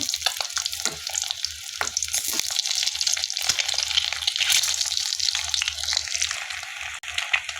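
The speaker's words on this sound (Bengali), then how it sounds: "তো ডিমগুলোকে আমি ভেজে নিব ভালো করে।" Eggs fry in a pan with a loud, continuous, crackling sizzle that holds steady throughout and has no voices over it.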